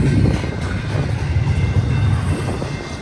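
BNSF eastbound Z intermodal train passing on main track 2 at milepost 64.6 in Lower Sworthout Canyon, a steady loud low rumble close by, continuous throughout with no talk.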